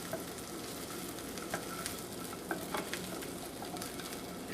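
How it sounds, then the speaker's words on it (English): Food fries in olive oil in a pan over fairly high heat, a soft continuous sizzle with scattered small pops and crackles, quiet and close, with no voices. "over fairly high heat, we're going to sort of toast them, but it's more like frying them"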